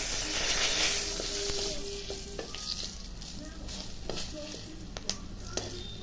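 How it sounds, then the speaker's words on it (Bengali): Dry red chillies and bay leaves are tempered in hot oil. The sizzle is loud and hissing at first, then eases to a softer fry with a few sharp pops near the end. "এখন এখানেই সম্বারটা দিয়ে দেবো, শুকনো লঙ্কা, তেজপাতা"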